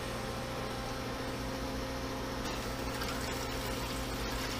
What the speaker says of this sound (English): Let that cold water circulate in those jackets. I can hear it running around.